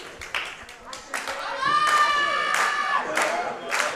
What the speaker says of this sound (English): This crowd's really, really into this match.